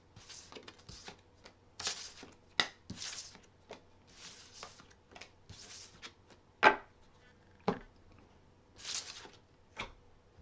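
Tarot cards being shuffled and drawn for a reading, heard as repeated soft riffling bursts mixed with sharper card taps and snaps in an uneven rhythm, close and fairly quiet with no talking.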